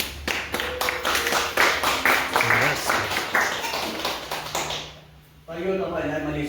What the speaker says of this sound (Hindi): यस, जोरदार ताली